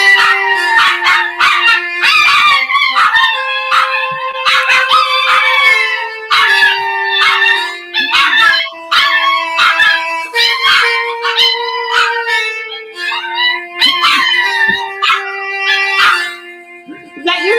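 Puppies howling together in a recording, with loud overlapping wavering howls, yips and whimpers rising and falling in repeated bursts throughout, no speech.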